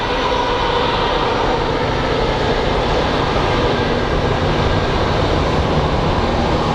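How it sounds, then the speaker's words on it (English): A FedEx cargo plane taking off at Phoenix Sky Harbor International Airport makes a loud, continuous jet roar that holds steady throughout. "FedEx is about to take off too."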